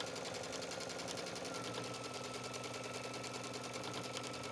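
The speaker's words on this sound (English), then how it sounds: "So I'm just going to hold this and stitch" Sewing machine stitching fabric and trim along the edge of a towel for a hooded towel, a steady continuous mechanical whir with a fast even needle rhythm, close and moderately loud throughout with no talking.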